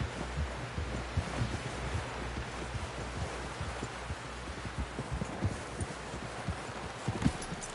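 Horse hooves clip-clop in steady rhythm in Red Dead Redemption 2, a moderately close trotting beat running throughout with a soft background rumble and no talk.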